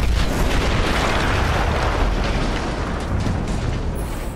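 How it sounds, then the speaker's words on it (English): A massive explosion blowing up an artillery gun in the video game Battlefield 1, a loud sustained blast roar that fills the whole span and slowly trails off into rumbling debris. "That explosion was one of the sweetest sights of the war for me."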